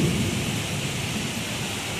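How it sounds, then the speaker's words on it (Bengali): A thunderstorm with strong wind brings steady heavy rain and a low rumble of thunder, a constant broad wash of sound throughout. No one speaks. "বৃষ্টিও হচ্ছে, মেঘও ডাকছে।"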